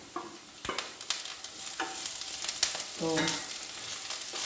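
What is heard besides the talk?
okra (bhindi) frying and being stirred in a pan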